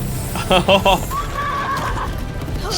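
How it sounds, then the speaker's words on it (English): A horse in an anime fight scene whinnies in three loud, sharp bursts, followed by a rising tonal cry, all close and prominent over a busy soundtrack. "This horse is crazy."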